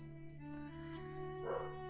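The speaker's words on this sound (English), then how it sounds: "Pardon the barking" A dog barks and whimpers a few times at a distance, faint beneath a steady low hum.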